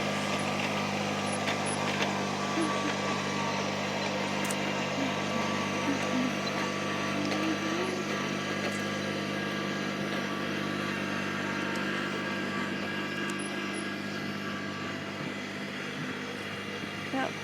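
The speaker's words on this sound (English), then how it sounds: "And he gets to play with his tractor," A small farm tractor engine runs steadily while hauling a load of dead grass to a compost pile, a constant low droning rumble throughout, moderately close with no breaks.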